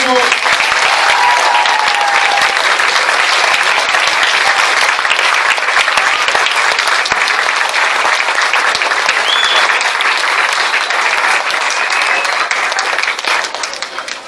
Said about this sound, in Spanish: aplauso grande para este grupo.